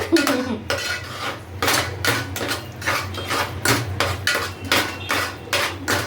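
Pav bhaji being stirred and sautéed in butter in a pan over a low flame: a steady run of metallic spoon scrapes and clinks against the pan, repeating about every half second over a low background hum.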